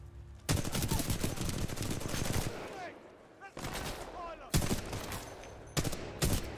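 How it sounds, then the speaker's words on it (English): Sustained gunfire rattles at the player in the Titanfall 2 campaign, dense automatic bursts separated by brief lulls, loud and close. "Hey, stop shooting at me."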